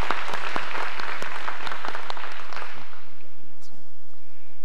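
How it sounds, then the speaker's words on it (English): An audience claps their hands at a live-streamed event, a dense burst of applause that is loud and close at first, then thins out and fades to quiet within a few seconds. "Let us appreciate her with a hand clap."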